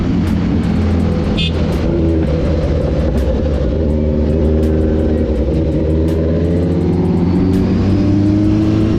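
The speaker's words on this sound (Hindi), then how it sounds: "तो यार गजब की साउंड है, दोनों बाइक्स की बहुत ही ज़बरदस्त है।" A Kawasaki Ninja 1000 and Z900 rumble and rev continuously nearby, a deep throbbing roar with rising and falling pitch, no speech.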